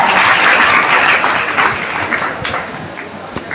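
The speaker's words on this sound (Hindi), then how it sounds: "तो एक बार जोरदार तालियां हमारे शिक्षक साथियों के लिए जिन्होंने इस मंजिल तक उसे पहुंचाया।" An audience at a former student's address applauds for teachers, loud dense clapping that gradually thins toward the end, with no speech.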